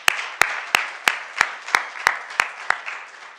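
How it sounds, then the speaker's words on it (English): Evenly spaced sharp claps, about nine in a steady slow rhythm, loud and close, at a Transgender Day of Remembrance gathering, with no voices. "Give yourselves a round of applause"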